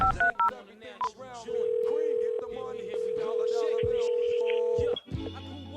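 A telephone line opens a wireless phone interview on a radio show with a few quick dialing tones, then a long, steady dial tone lasting several seconds, with voices and sound effects around it.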